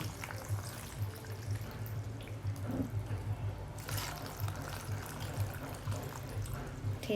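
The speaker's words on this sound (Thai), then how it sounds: "อันนี้น้ำดองเราเย็นแล้วนะคะ เราก็เทใส่เลย" Cooled pickling brine is poured over mangoes in a soft, steady liquid trickle and splash, faint and continuous with a low background hum.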